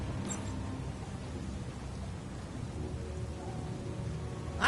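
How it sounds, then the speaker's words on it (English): Steady rain with a low rumbling undertone from an approaching storm at sea in the Leisure Suit Larry: Wet Dreams Dry Twice video game, a continuous hiss and murmur swelling slightly toward the end. "I have a feeling that the storm is getting closer by the second."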